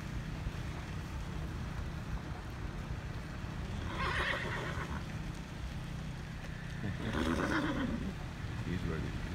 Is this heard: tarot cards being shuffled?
no